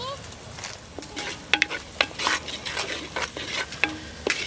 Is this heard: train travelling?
no